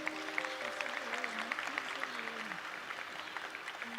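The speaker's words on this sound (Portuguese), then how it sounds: "Pode aplaudir de novo." Audience applause during a Catholic sermon, moderate and steady throughout, with a voice talking over the clapping.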